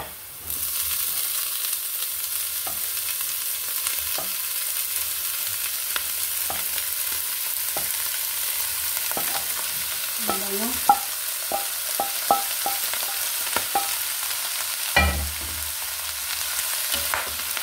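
Bopis sautéing in a pan, a steady close sizzle with repeated clinks and scrapes of a utensil stirring throughout.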